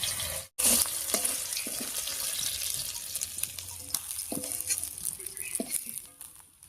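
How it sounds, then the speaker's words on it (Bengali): Dried fish fries in oil in a pan, giving a quiet sizzle with light patter and a few scraping stirs, near and alone, fading toward the end. "শুটকি মাছটা খুব ভালো করে ভেজে নিয়েছি"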